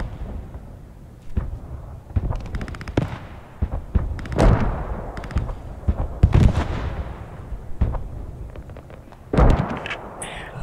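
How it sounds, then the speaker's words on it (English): Artillery fire in the Squad 44 World War II shooter game: scattered sharp blasts and deep booms at irregular intervals, some close and loud, others distant, over a low rumbling background. "there's some artillery coming in on the armor just to our south"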